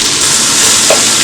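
A spoon stirs rice in a hot pan with rosemary and butter, giving a steady broadband sizzle and hiss that runs loud and unbroken, with a faint scrape near the end.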